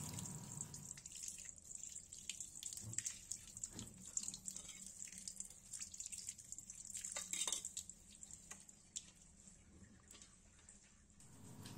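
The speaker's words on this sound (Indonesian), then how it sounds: "Kemudian kita cuci dengan air mengalir." Tuna pieces are rinsed under a running kitchen tap, a steady soft splash and trickle of water with occasional clinks and handling noises, close and fairly quiet.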